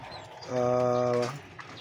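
A single racing pigeon gives one soft, close coo lasting under a second, a low hollow tone standing alone over faint background noise.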